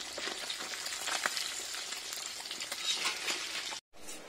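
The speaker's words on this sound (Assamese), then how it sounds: "আমাৰ মাতাশ্ৰীয়ে এয়া মাছ ভাজি আছে" Fish fries in a pan with a dense, steady sizzle and crackle throughout, close and moderately loud, broken by a brief dropout near the end.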